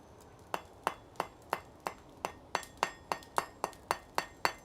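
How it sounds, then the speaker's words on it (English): A blacksmith's hammer strikes round metal bar in a smithy, ringing out in a steady run of about thirteen sharp, bright, clinking blows at a brisk, even rhythm, close and clear with no talk. "Helps if I use the correct side of the hammer."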